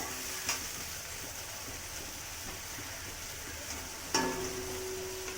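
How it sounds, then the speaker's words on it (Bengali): Ginger, cumin and ground nut paste masala for a potol paneer curry frying in a pan, a steady soft sizzle with two sharp clinks of a spatula against the pan. "মশলাটা খুব ভালো করে কষিয়ে নিতে হবে আদা জিরে বাদাম বাটা আছে"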